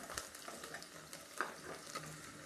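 Garlic, cumin and mustard seeds sautéing in hot oil for an ivy gourd curry, giving a soft, steady sizzle with faint crackles and occasional stirring scrapes, close but fairly quiet, no voices.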